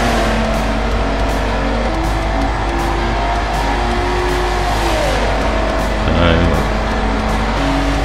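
Race car engine from Forza Motorsport 4 drones steadily through a lap, with shifting harmonic tones and a brief rising whine near the end, while a commentator talks over it.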